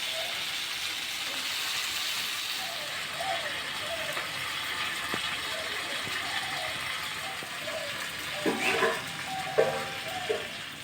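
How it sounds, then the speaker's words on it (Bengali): Rice frying in a pan with garlic and a large katla fish head gives a steady, faint sizzling hiss, broken by occasional clinks and scrapes of stirring. "রসুনটা ভাজা হয়ে গেছে, এখন চালটা দিয়ে দেবে।"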